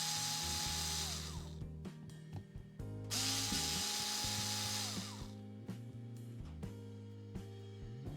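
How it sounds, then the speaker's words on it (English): Cordless screwdriver with a Phillips bit backing screws out of a JBL Tuner 2 radio, two loud whirring bursts close by, with short ratcheting clicks and handling noises between them. "cordless screwdriver with the Phillips bit in the end, and we'll just insert it and extract all those screws"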